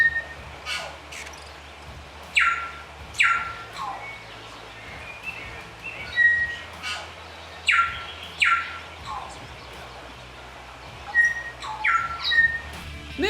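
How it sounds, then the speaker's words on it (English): Tomtits and other birds call in a New Zealand forest, with bright, repeated chirps and whistled notes in short bursts at a moderate distance over a quiet background. "there's all sorts of bird calls in the forest, and we're just watching these beautiful tomtits nesting."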